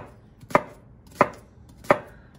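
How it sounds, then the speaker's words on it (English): A knife chops onion on a board in three sharp, evenly spaced strikes, close and crisp, with no talking. "And then you can just chop to your heart's delight."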